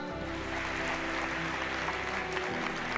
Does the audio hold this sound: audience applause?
yes